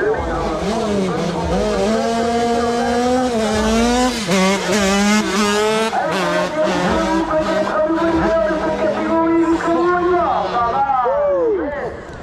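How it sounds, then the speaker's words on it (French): Engine roaring loudly with rising and falling pitch as a fast motorcycle passes close by, its whine climbing then dropping away. "donc là nous avons Track Motard sur la moto de Tom"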